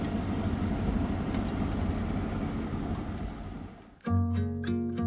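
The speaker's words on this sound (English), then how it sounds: "just motoring steadily along at about 1500 RPM" A Rustler 42 yacht's engine motors steadily at about 1500 RPM in very light winds off the leeward coast of Dominica, a continuous close low drone that dips briefly before a tonal whine joins near the end.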